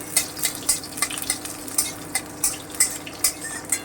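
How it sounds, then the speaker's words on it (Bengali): Garlic and green chilli frying lightly in a pan: a soft sizzle under a brisk run of sharp spatula taps and scrapes against the metal, roughly two or three per second, close and with no voices. "আমি হালকা করে একটু ভেজে নেব হালকা করে"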